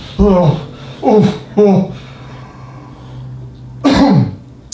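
A man coughs and splutters after being slapped, three rough close coughs in quick succession, then a pause and one more harsh cough, loud against a quiet background.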